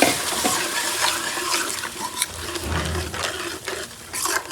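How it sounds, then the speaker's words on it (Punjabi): Water is poured into masala frying in a pan, giving a rushing, hissing sizzle with a low gurgling splash midway, close and continuous, mixed with scattered clinks and scrapes. "ਹੁਣ ਇਹਦੇ ਵਿੱਚ ਆਪਾਂ ਥੋੜਾ ਜਿਹਾ ਪਾ ਦੇਣਾ ਪਾਣੀ"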